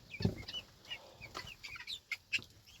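Young pheasants settling into a small shed let out soft, scattered clucks and chirps at close range, quiet and irregular throughout.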